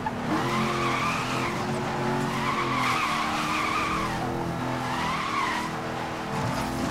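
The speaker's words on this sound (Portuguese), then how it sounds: "É que ele já derrapa pra caramba sozinho." In the video game Need for Speed: Most Wanted, a car's engine roars steadily while its tires squeal in long, wavering skids as it drifts. The sound stays loud and continuous throughout.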